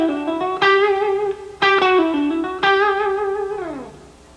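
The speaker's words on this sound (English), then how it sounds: "I do a couple faster pull-off and picking licks." A slowed-down electric guitar lick mixes fast pull-offs and picked notes in three sustained, ringing phrases. Each phrase opens with a sharp attack and slides downward, with effects coloring the tone.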